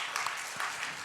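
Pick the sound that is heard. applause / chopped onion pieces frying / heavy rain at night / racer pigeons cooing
applause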